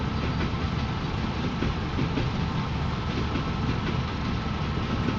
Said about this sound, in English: These underground trains are so convenient.